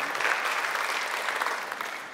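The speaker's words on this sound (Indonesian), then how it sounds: "Beri tepuk tangan bagi Tuhan." Church congregation applauding during a worship service, a full steady burst of many hands clapping together at moderate loudness, easing slightly toward the end.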